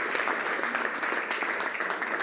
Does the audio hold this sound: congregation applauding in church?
yes